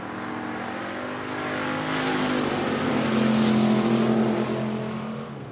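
Race cars roar around the oval at I-37 Speedway during a heat race, engines droning loud and steady as the pack builds and sweeps past, with no voices over the noise.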